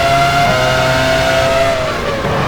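A Formula 1 car in F1 Challenge 99-02 at the 2001 Belgian Grand Prix, Spa-Francorchamps, drives into the pit lane, its loud, high engine whine sustained close by, then dropping in pitch as it slows.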